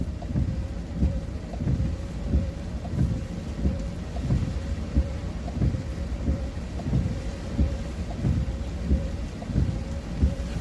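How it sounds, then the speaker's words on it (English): Thunderstorm downpour near Cumberland, Maryland: a constant roar of heavy rain on surfaces, punctuated by recurring deep thunder rumbles at irregular intervals, close and loud, no speech. "It's like it's downpour."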